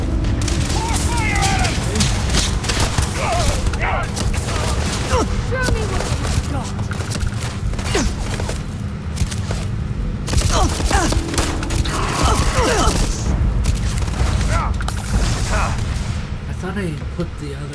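Weapon fire in the Starfield game: repeated loud gunshots and blasts in a busy, dense mix with mechanical clatter, continuing steadily across the stretch with a voice speaking over parts of it.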